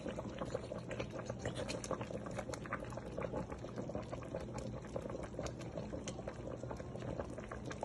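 Palm nut soup simmering in a pot as palm nut paste goes in: a continuous soft bubbling and gurgling with small liquid pops, faint and steady throughout, with no talk.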